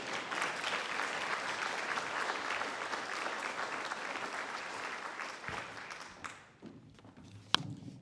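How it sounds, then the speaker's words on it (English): Applause from an awards-event crowd honoring senior nominees, steady and full for several seconds before thinning out, with a few scattered claps, footsteps and a sharp thump near the end. "let's give all of our nominees a big round of applause"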